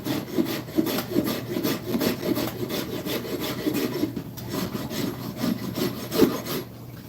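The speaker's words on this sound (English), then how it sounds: "It's amazing what a farrier rasp can do when the wood isn't like, you know, a brick" A farrier rasp scrapes back and forth across wood in steady, rhythmic strokes, close and clear, each pass a dry gritty rasping rub repeating roughly twice a second.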